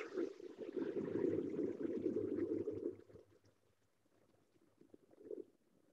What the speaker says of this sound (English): Now that my mirepoix is nicely caramelized, I can add the brown stock.